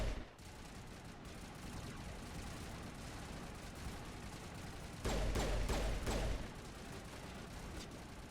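Steady, dense gunfire rolls through a firefight in Mass Effect: Legendary Edition, sniper fire among it, with a louder burst of shots about two thirds of the way through, no voices over it.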